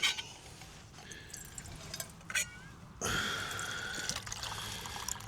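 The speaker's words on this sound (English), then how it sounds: "let's put some water in here, just enough for me for a brew and washing up" Water is poured into a container for a brew, with a faint trickle that becomes a louder, steady rush of filling partway through, close by.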